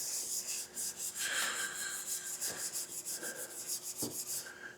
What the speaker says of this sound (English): I've got some 320 on a block and I'm just blocking out these areas.